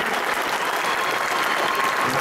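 Dense audience applause at a school theatre troupe's evening show, a steady unbroken wash of many hands clapping close by, with no voices over it.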